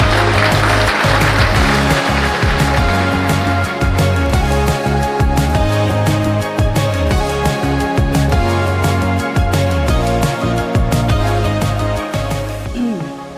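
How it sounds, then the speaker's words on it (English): An audience gives loud, continuous applause at a United Way Career Explorers event. The clapping runs through the whole stretch over a steady musical backing. "we can just give you a round of applause"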